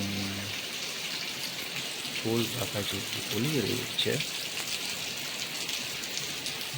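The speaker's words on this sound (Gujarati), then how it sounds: "તેનો વરસાદ તમે જોઈ શકો છો કેવો છે" Steady rain pours down in a continuous hiss, with a voice speaking briefly partway through.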